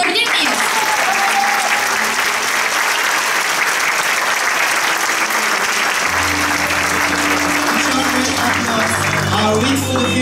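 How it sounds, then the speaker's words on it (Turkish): Loud, sustained applause from an audience at a middle school eighth-grade graduation ceremony in İzmir, dense clapping filling the whole stretch, with voices and music or tones rising underneath toward the end. "Öğrencilerimiz için büyük bir alkış alabilir miyiz?"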